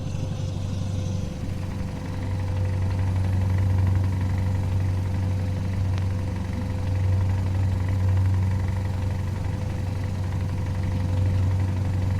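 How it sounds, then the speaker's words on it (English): A Scania Longline truck engine with an open exhaust pipe in Euro Truck Simulator 2 idles and works continuously, a low droning exhaust note with faint crackle, no talking. "I love the sound of the open pipe crackling away there"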